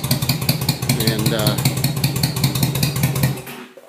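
Yamaha V Star motorcycle engine running steadily at a low, throbbing idle with a regular pulsing beat, close and fairly loud, cutting off near the end; a voice talks over it.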